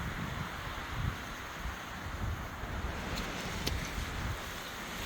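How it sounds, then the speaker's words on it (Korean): Strong wind roars across a snowy hilltop in gusty, continuous blasts buffeting the microphone, loud and close, with no voices. "바람 소리 한번 찍고 한번 내려가 보겠습니다"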